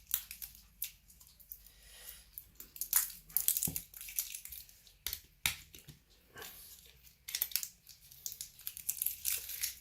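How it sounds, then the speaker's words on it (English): Protective plastic film being peeled and crinkled off a Samsung smart TV remote, heard close as irregular crackling and crumpling bursts with brief quiet gaps between them. "Bit of plastic on there can come off."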